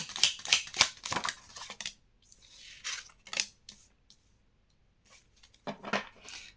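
Tarot cards handled during a reading, with quick close rustles, slides and flicks in short bursts separated by quiet gaps, and no speech over them.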